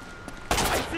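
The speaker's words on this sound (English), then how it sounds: "You don't shoot at me, buddy." Enemy gunfire in Uncharted: Drake's Fortune, a quiet stretch broken by a sudden loud burst of shots that rings on with a crackling tail, heard without speech.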